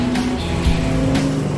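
AMC Javelin race car at speed with continuous engine roar and steady tire noise, a skid blending into the loud, dense mechanical sound throughout.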